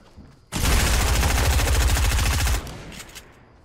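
Rapid gunfire in the Fortnite video game, a loud continuous two-second burst of dense repeated shots that starts and stops abruptly, heard alone without talk.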